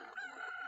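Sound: chicken clucking in Ocarina of Time video game

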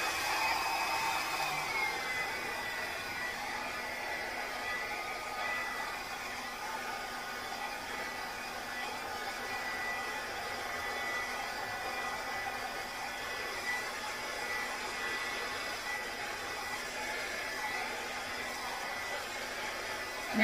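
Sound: blow dryer blowing acrylic paint on canvas

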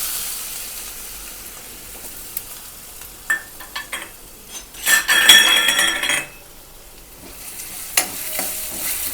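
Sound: potatoes frying with asafoetida in a pan

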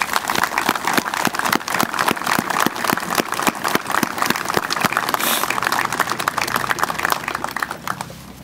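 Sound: audience applause at Veterans Day ceremony

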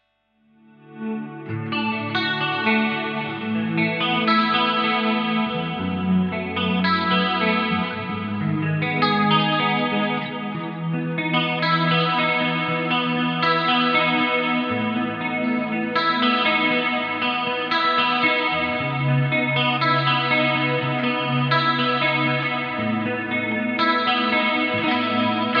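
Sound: electric guitar through effects rack, clean channel, stereo

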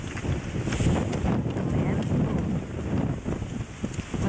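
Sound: strong wind blowing

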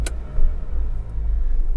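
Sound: car driving at 60 mph in third gear

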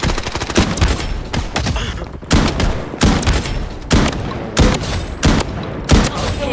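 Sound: gunfire in the video game Blood Strike

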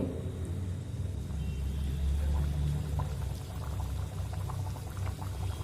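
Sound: dal puris frying in oil on medium flame

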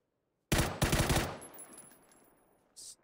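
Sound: gunfire from video game PUBG

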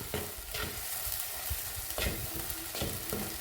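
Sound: masala paste frying for fish curry

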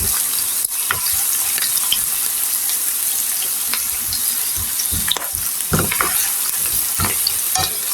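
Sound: onion and garlic frying in oil

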